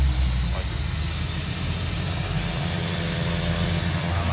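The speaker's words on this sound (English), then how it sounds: "look how fast this plane takes off." An airplane taking off roars with a steady, sustained engine drone holding at moderate loudness throughout, heard from a distance with a faint low rumble underneath.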